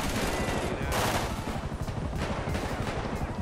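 Loud rapid-fire helicopter cannon blasts in GTA V rattle on without pause, swelling in a few heavier bursts, with no talking on top.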